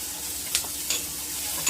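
Sliced, lightly crushed onions fry in leftover oil from fried rui fish, making a close, steady sizzle with a few soft stirring scrapes and no talking.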